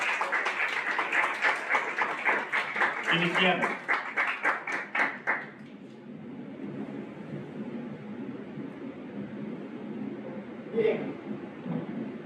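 Indoor audience at a university lecture welcoming the speaker with a burst of clapping that fades out after several seconds, followed by quiet room tone, a brief spoken word, and a single louder knock near the end.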